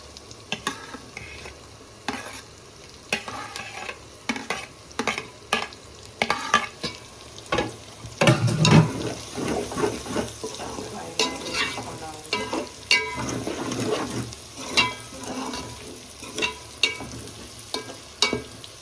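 Raw prawns fry in hot oil with ginger-garlic paste, a constant close sizzle punctuated by repeated clattering stirs and pan scrapes, no voices over it.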